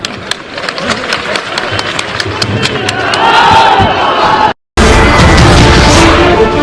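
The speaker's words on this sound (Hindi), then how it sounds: "ताली बजाओ" An audience at a public talk claps and cheers, starting with scattered sharp claps and swelling into a loud, dense crowd roar that continues after a brief cut.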